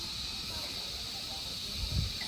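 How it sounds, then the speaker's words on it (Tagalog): Insects chirping in a garden at Caleruega Church: a constant high, hissing drone of chirps filling the air, steady and moderately faint, with a low soft thump near the end and no clear voices. "Naririnig mo yung mga insekto."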